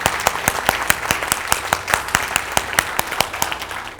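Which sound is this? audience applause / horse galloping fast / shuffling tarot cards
audience applause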